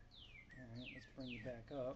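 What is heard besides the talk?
birds chirping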